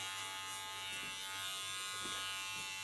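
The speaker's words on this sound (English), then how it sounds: "My clipper really has to work" Electric hair clipper buzzing steadily as it cuts through thick hair at the nape, a close, even hum with slight shifts in strain as it works.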